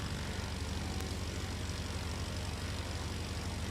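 A Rebel STOL airplane flies at a morning practice in Sulphur Springs, Texas, its propeller engine making a steady, continuous drone that holds at an even loudness throughout, with no voices over it.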